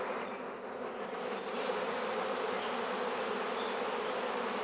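A swarm of honeybees caught in a box makes a steady, dense buzz that holds evenly throughout without pause, close and fairly loud with no voices over it.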